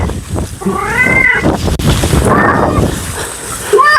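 A cat meows loudly and close by, a long wavering call followed by another, over breezy background noise, with a short mew at the end.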